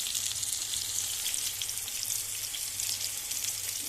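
Tomatoes sizzle steadily in hot olive oil, a continuous close crackling fry with no speech.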